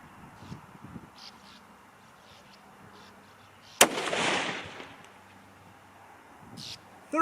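A single sharp, loud rifle shot from a Christensen Arms MPR cracks out midway and rings off in a broad, decaying blast, with quiet background sounds before and after.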